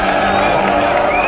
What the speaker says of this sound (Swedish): Med jubel